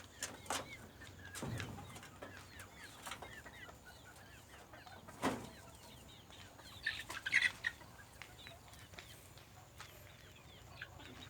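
Chickens cluck in short scattered bursts outdoors, with a few louder squawks and some wing flapping against quiet background ambience.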